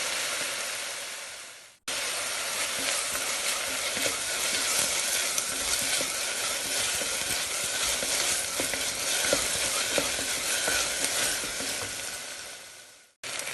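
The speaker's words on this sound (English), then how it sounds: "add 1 teaspoon of ginger garlic paste and start frying again" Steady, close sizzling of ginger garlic paste frying in hot oil, a dense crackling hiss that runs almost unbroken, with a brief gap near the start and end.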